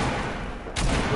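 Grenade blasts in Fortnite: a brief muffled rumble, then a sharp loud burst near the end, with no talk.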